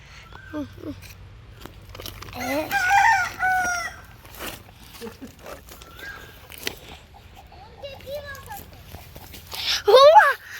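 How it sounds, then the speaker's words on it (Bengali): Chickens cluck on and off and a rooster crows loudly near the end, mixed in with people talking nearby outdoors. "গাছ থেকে মুরগি নামছে"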